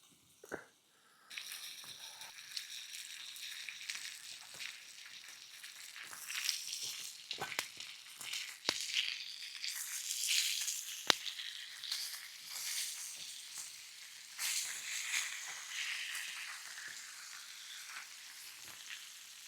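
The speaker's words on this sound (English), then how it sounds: "Like the sound of fresh bacon in the frying pan, sizzling away." Bacon sizzling steadily in a hot frying pan, a dense crackling hiss with sharp pops and a few clinks, close by with no talking.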